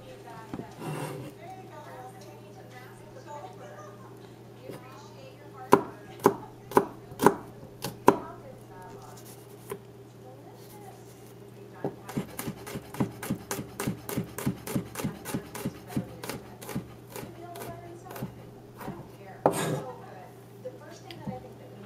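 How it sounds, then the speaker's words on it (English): A knife minces garlic on a cutting board, first in a few separate sharp chops, then in a fast, steady run of close, crisp taps, with a voice talking over parts of it. "For the garlic, I'm actually gonna make it into a paste. Or you can just mince it like this."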